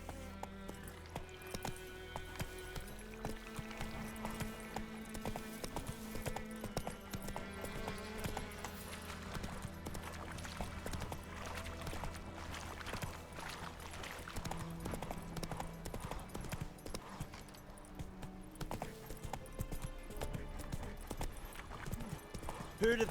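Roach, a horse in The Witcher 3, trots with steady repeated clip-clop hoofbeats over a continuous bed of game music, close and even throughout.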